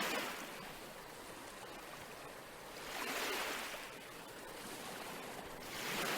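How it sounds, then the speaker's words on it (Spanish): Ocean waves in a steady rushing roar that swells twice as breakers roll in, with no one speaking. "El sonido de las olas me transporta a una corriente de pensamientos."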